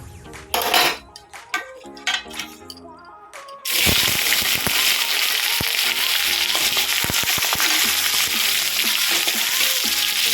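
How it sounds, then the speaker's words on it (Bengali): Mung dal frying in oil in a kadai, a steady loud sizzle that starts abruptly partway through, preceded by clinks of utensils against cookware and dotted with spoon scrapes and taps. "এই জন্য মুগ ডালটা আগে ভেজে নিচ্ছি।"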